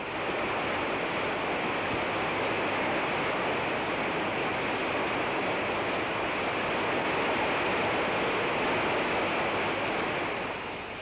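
Mountain trout stream torrent tumbling through forest below a large waterfall, a dense, steady rush of water, loud and unbroken throughout with no voices.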